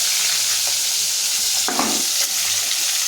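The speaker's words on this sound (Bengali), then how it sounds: "মাছ ভাজাটা করে নিই" Rohu fish frying in a pan of oil, a steady bright sizzle that holds throughout, with one brief clattering stir or shift midway and no talking.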